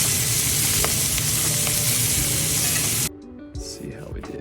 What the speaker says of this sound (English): searing them in a cast iron pot with some olive oil and butter